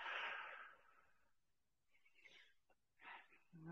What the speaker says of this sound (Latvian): Turpinam elpot.